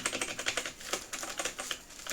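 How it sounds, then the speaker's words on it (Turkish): Rapid typing on a computer keyboard used as a PlayStation 5 controller, a steady run of sharp close-up key clicks with brief pauses. "Klavye mouse'dan görmüş olduğunuz gibi kontrol ediyorum."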